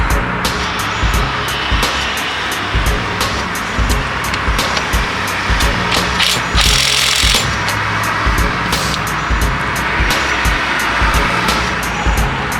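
A loud, continuous machine whine and motor drone close by, with repeated sharp clicks and surges throughout, no voices.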